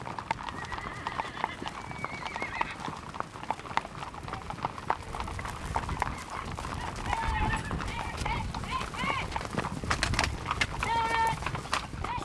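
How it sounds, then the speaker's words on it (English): Horses gallop during a horse drive with rapid, continuous hoofbeats, with occasional whinnies and voices in the background. "Horses are in a hurry, and there's lots of galloping to keep up."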